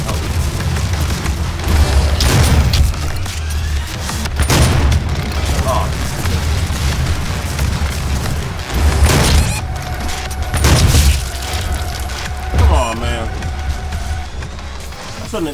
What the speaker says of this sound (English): I'm going to use a assault rifle.